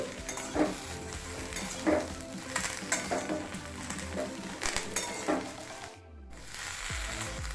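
Vegetables frying in a pan with ginger paste for Bengali dudh shukto, a steady close sizzle with repeated scraping stirs of a spatula against the pan, briefly cutting out near the end before resuming.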